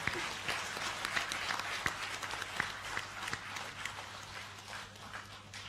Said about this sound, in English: give a big round of applause for all these awardees